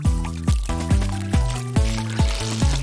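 Water poured in short repeated bursts into a container to soak rolled-up felt tip markers. Each pour gurgles and rises in pitch as the vessel fills, with about six close splashing pours in a steady rhythm.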